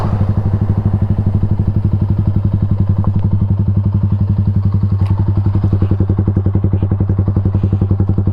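A Yamaha MX King 150 motorcycle fitted with a UB Bpro racing exhaust idles and revs close by, its rapid even thumping pulse loud and steady throughout.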